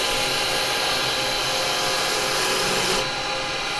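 A woodturning gouge cuts spinning wood on a lathe, making a continuous bright scraping hiss that runs steadily for a few seconds before easing off near the end.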